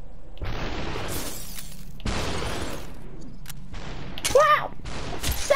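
Gunfire bursts and shattering in the slow-motion shooter Superhot, a few loud broadband blasts spread across the clip with a glassy crash near the end, under and between some talk.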